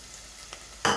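Ginger paste drops into a pot of browning beef for Kenyan beef pilau. After a quiet stretch with a faint stir, there is one short, sharp sizzle burst near the end.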